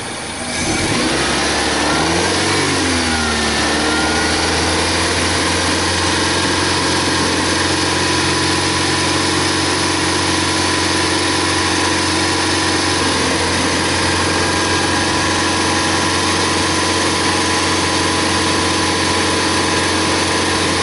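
A 1999 Honda Accord 2.3L VTEC engine is revved and held steady around 2500 RPM, giving a loud, continuous, close-up drone from start to finish with no talk.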